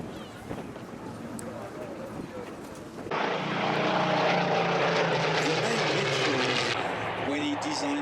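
A vintage propeller aircraft at the Duxford airshow, its engine drone swelling to a loud, steady roar as it passes overhead, with a narrator speaking beneath the aircraft noise.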